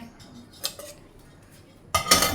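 Metal utensils and a cooking pot clatter and clink in a home kitchen sink as a pot is washed, two short bursts of scraping and knocking separated by a quiet pause, close and fairly loud, with no speech.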